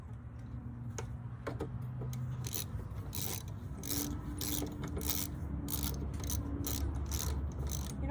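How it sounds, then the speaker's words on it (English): A hand ratchet clicks in steady, rapid bursts while turning bolts on a Yamaha Grizzly 660 ATV during a belt change, the close metallic ticking continuing throughout over a low mechanical hum. "So you take these bolts right here and you screw around there."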